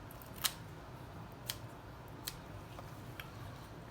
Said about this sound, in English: Cut the butt off, cut this tail.